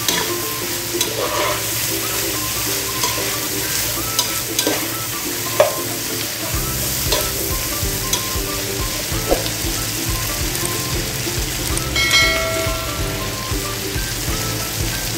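Pinakbet vegetables with crab fat being stirred in a pan, a steady close sizzle under scattered scraping and clinking stirring strokes, with no talking.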